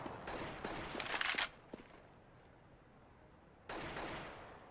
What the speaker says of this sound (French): Alors, tu vois, je te tire des balles.